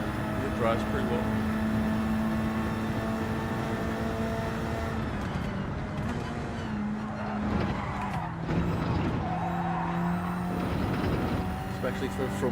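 Front-wheel-drive car engine in Gran Turismo 7 racing, a sustained droning engine note with pitch shifts through gear changes and tire noise, under voices chatting.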